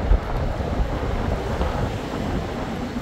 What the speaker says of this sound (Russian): Боже, какой приятный ветер